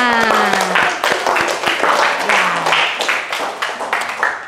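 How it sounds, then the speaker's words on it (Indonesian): Applause from a class of children, a dense spread of clapping that swells and thins over a few seconds, with voices mixed in. "tepuk tangan untuk kita semua"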